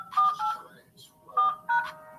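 Telephone keypad touch-tones entered as a PIN, four short dual-tone beeps in two quick pairs, clear and close with brief gaps between them.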